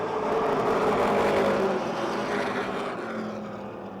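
Race cars roar together on the 10-laps-to-go restart at Motordrome Speedway, a loud continuous engine drone that stays steady, then fades slightly toward the end.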